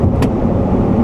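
A 2014 Bentley Flying Spur sedan cruises on a Chinese highway, its low, steady road and engine drone heard from inside the cabin, loud and constant, with a brief airy swish partway through.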